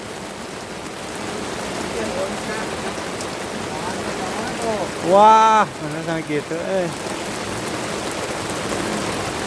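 Steady rain pattering down during fishing from a hidden raft, a constant hiss throughout, with a brief burst of voices talking and exclaiming midway.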